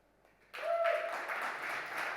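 Audience applause breaks out suddenly at a business conference talk and holds steady as a dense, moderately loud wash of clapping.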